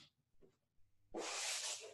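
A person breathes in an exaggerated way during a kettlebell Turkish get-up, with faint short breaths followed by a loud, forceful, hissing exhale close to the microphone.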